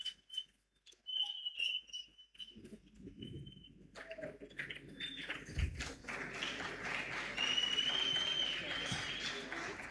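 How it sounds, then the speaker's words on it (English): An audience at a Minister of Basic Education school-safety visit in Eldorado Park claps as the minister and team leave the stage; applause swells from about four seconds and holds steady to the end, with whistles and a few cheers over it. "A round of applause for the minister and the team as they leave the stage."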